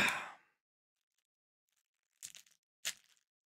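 A knife slits open cardboard packaging from a September 2021 Loot Crate, giving two short, close crackling cuts a moment apart after a brief opening breath-like rush.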